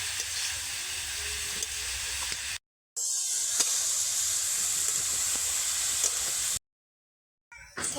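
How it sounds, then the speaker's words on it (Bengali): Vegetables sizzling in a kadai for Bengali poha, a steady broadband frying hiss at moderate level, cut by two brief silences, with no talk. "সবজিগুলো কিন্তু ভালোভাবে ভাজা হয়ে গেছে"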